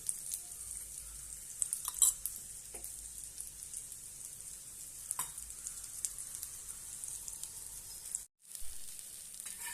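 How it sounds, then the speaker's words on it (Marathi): Spinach besan chilla sizzles steadily in oil on a pan, a faint continuous crackle with occasional soft pops and a brief dropout near the end. "छानपैकी तेल सोडायचं आणि दोन्ही बाजूने भाजून घ्यायचं।"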